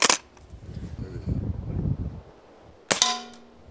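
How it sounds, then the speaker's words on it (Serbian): Rifle shots at a school outing attraction: one sharp crack at the start and another near the three-second mark with a ringing tail, separated by low rumbling background and faint voices. "Pucanje iz puške."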